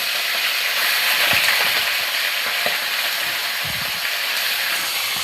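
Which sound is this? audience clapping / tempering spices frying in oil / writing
tempering spices frying in oil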